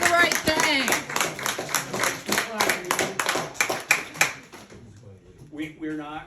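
Rhythmic group clapping from an audience at a town board meeting, sharp regular claps in unison at close range with shouting voices mixed in, fading out near the end as a voice speaks.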